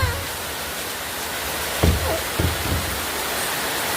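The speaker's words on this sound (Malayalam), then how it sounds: "അയ്യോ ഗൈസ്, നല്ല മഴ." Heavy rain falls outside an open door as a constant broadband hiss, with a couple of brief voice sounds over it.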